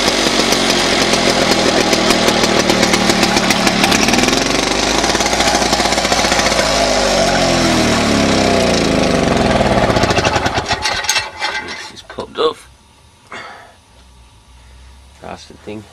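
A Victa Power Torque lawn mower engine at full throttle roars with a loud, rapid, rattling drone for about ten seconds, then cuts out, leaving scattered clunks and knocks.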